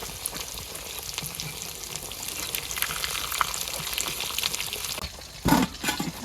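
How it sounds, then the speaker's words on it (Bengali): Onions frying in very hot oil in a pan over a village clay stove hiss and crackle steadily, with louder spatters and stirring clatter near the end. "এখন পেঁয়াজগুলো ভাজা বয় দিই।"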